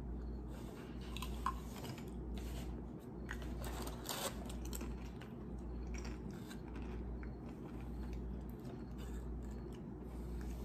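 Crunchy bites and chewing on nacho cheese tortilla chips, close and fairly steady over a low constant hum, with no talk.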